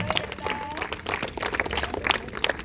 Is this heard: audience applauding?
yes